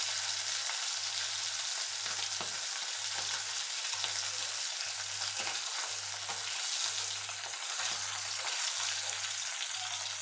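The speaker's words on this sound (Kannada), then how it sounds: "ಈ ಭಾಗನೂ ಚೆನ್ನಾಗಿ ಈ ಥರ ಫ್ರೈ ಮಾಡಬೇಕು." Mackerel coated in rava fries in a pan on low heat, a steady close sizzle lasting throughout with a faint stirring or scraping texture and a regular low hum underneath.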